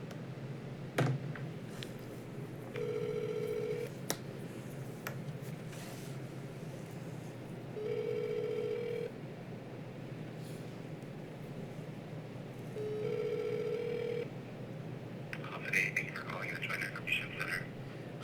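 An outgoing telephone call rings through to an information center: three evenly spaced ringback tones about five seconds apart over a hissy line, followed by a brief burst of line noise at the end.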